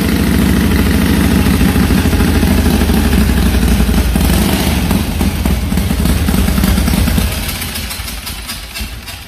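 A century-old vintage motorcycle engine runs loudly and close, a rapid rattling chug that holds steady and then eases off toward the end.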